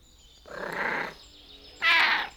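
A cat meows twice at close range, first a drawn-out cry and then a shorter, higher call, with nothing else over a faint room hum.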